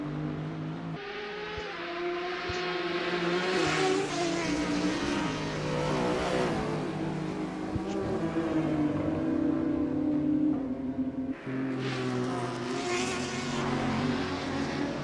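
Several GT4 race car engines in a sim racing game at Road America drone and rev continuously, loud and close, with pitch rising and falling through gear changes and a brief lull near the start.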